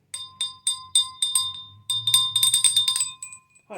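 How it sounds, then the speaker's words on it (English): A hand bell is rung repeatedly, bright metallic strikes at first spaced out and then coming in a quick flurry before fading with a short ring-off. "We're going to ring the bell right quick, people."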